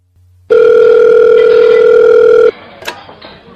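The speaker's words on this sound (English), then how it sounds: "A telephone call." A steady telephone call tone sounds loud and alone for about two seconds, followed by a brief click and faint handset noise.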